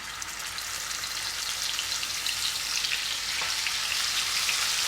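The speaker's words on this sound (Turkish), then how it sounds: "Şimdi ben bunu burada kızartacağım." Steady, crackling sizzle of chicken thighs frying in oil in a pan, continuous and fairly close, with no talking.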